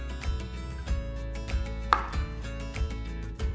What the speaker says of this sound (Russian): Помидор нарезаем слайсом.